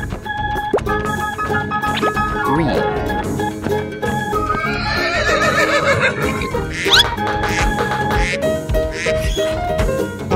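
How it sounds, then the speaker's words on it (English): A horse neighs over a busy layered musical backdrop, with a descending whinny around the middle and other animal-like calls mixed in, all fairly loud and continuous. "Horse."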